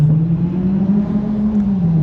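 A DEERC 9201E brushed RC truck drives along with a steady, high electric motor whine that rises and falls slightly as it runs, close and continuous with no talking.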